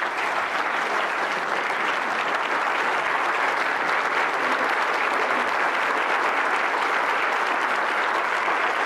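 A crowd gives steady, loud applause to welcome Senator Chuck Schumer at a morning event in Louisville, dense clapping that holds evenly for nearly nine seconds.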